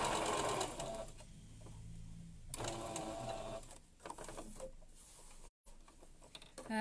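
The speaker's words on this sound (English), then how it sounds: "So just top stitch all the way around." Sewing machine running in bursts while top stitching around the edge of a fabric face mask, with short pauses between runs of steady mechanical whirring and faint background noise.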